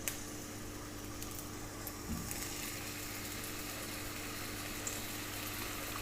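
Tomatoes frying in hot oil over medium heat, giving a steady, dense sizzle that runs unbroken throughout, close and even, with faint small pops and no voices.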